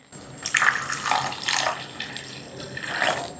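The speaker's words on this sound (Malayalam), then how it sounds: "ഇനി നമുക്കിതിലേക്ക് ഗ്രേവിക്ക് ആവശ്യമായ വെള്ളം ഒഴിച്ചു കൊടുക്കാം." A cup of water is poured into a thickened, simmering soya chunk curry in a Kerala-style home kitchen, splashing and gurgling in a few short bursts.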